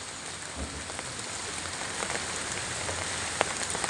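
Steady rain pattering on surfaces outdoors during fishing, a dense, even hiss of drops with a few sharper close splashes, no voices heard.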